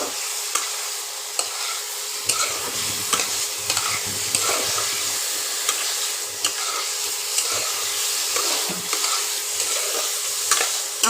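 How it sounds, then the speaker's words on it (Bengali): Boiled eggs and fried potatoes are stirred into sizzling, frying masala in a pan, with a constant loud sizzle and repeated scraping stirs close by; no talking. "ডিমটা আর আলু ভাজাটা দিয়ে দেব।"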